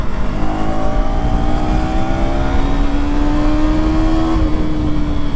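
A KTM Duke 250 motorcycle accelerating hard in track mode, its engine note climbing steadily in pitch through the revs before a brief dip as the throttle eases, loud and close with wind noise.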